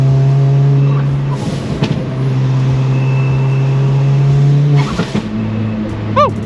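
A boosted car engine revving hard under acceleration, a loud droning roar that holds steady, dips briefly during a gear change, then climbs again with a turbo whoosh.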